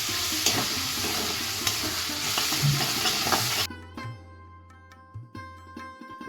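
Spice paste for chicken curry frying and being stirred in a pan gives a dense, close sizzle with scraping for a few seconds, then drops abruptly to a quieter background with steady tones.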